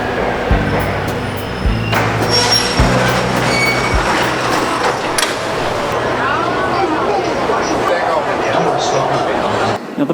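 Shanghai metro train running through the Pudong district, with a steady rumble of wheels and carriages, some wheel squeal and clatter, and a sharp cut near the end; a voice talks over it.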